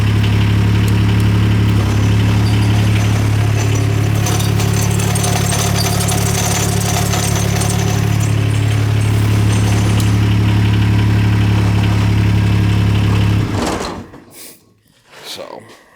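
John Deere 430 lawn tractor with a rear PTO idling at a steady, loud, close drone for several seconds before the engine cuts out and the sound drops away near the end.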